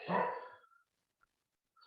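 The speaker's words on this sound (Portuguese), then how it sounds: "tenho aqui um cão aqui ao lado a fazer um bocadinho de ruído" A dog nearby gives a single loud bark that fades out, then faint brief yips follow in a quiet indoor setting.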